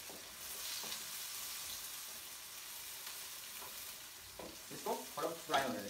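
Onions frying in hot oil for daal, a steady soft sizzle throughout, with a few louder stirring scrapes near the end, no talking.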